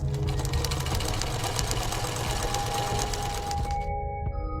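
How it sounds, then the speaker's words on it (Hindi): A sewing machine runs steadily at a fast, even stitching rhythm, close and loud, then stops abruptly near the end, leaving a faint electronic hum. "टीवी देखते हुए सिलाई मशीन पर सिलाई का काम करने"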